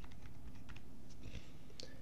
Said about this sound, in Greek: και γράφουμε τη λέξη φάκελος